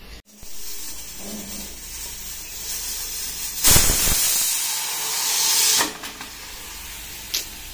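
A pressure cooker lets off steam in sharp hissing bursts. One loud blast rises and fades, then a longer whoosh follows, with a brief puff near the end.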